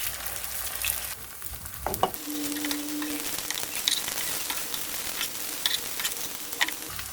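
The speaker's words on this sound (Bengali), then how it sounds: "সেমভাবে বাকি বড়াগুলো আমি ভেজে নিব" Rice and ash gourd fritters (bora) fry in hot oil, a loud, continuous bubbling sizzle up close with a brief clink of a utensil near the start.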